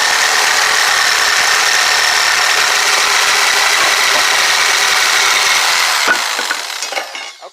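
A jigsaw cuts a wood board for a simple wooden cross, guided along a speed square. Its motor gives a loud, steady buzzing drone that runs continuously and then cuts off and winds down near the end.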